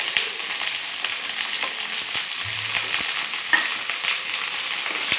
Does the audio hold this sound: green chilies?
yes